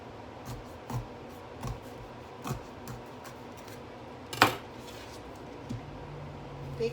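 Knife cutting the ends off a bitter gourd (ampalaya) on a board, several sharp, brief chops spaced about a second apart with one louder crunching cut, close and quiet, no talking.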